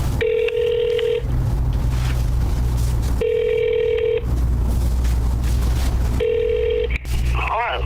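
A phone call being placed: repeated electronic ringback tones in steady bursts about every three seconds over a constant low hum, loud and close, with a clatter near the end.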